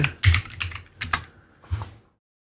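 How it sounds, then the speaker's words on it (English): Several quick keystrokes on a computer keyboard come in short irregular bursts, close and clear, then a final pair of taps before silence. "you'll type in Balena Etcher"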